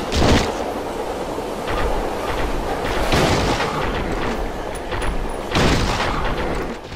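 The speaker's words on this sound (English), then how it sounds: "the shotgun is actually a fairly nice weapon, as it has always been in other Silent Hill games" A shotgun fires in Silent Hill 3, several heavy booming blasts a couple of seconds apart, loud and close with rumbling tails between shots.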